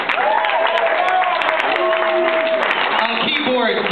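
Audience applause for a keyboard player at a live concert, steady dense clapping throughout with a voice and tonal sounds over it.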